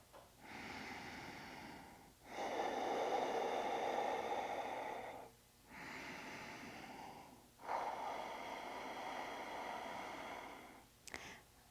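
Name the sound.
slow breathing during a yoga stretch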